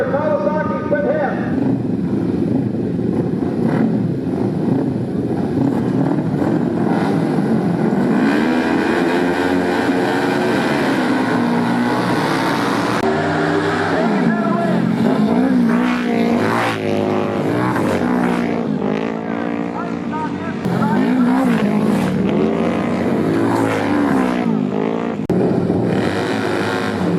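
Classic motorcycles, including Harley-Davidsons and Kawasakis, roar continuously at a vintage race, engine noise loud and sustained under an announcer's voice over a loudspeaker.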